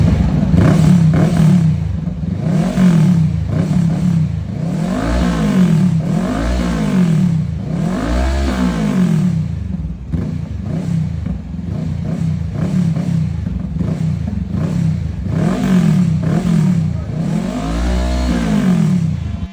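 A motorcycle engine fitted with an aftermarket canister exhaust revs repeatedly up and down at close range, loud rhythmic throttle blips rising and falling over a steady rumbling idle, with no talking.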